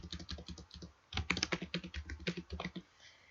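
Fingers type on a computer keyboard in quick, uneven bursts of close, crisp key clicks, with a short pause before a denser run of strokes.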